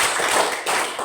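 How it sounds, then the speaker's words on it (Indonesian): A brief burst of dense classroom applause for a group presentation, many hands clapping at once in a close, busy wash of sound with no pause. "Tepuk Desti."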